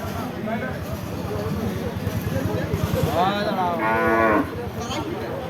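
A bullock at a cattle market lets out a loud, drawn-out moo amid a busy crowd, with people talking over a low background murmur.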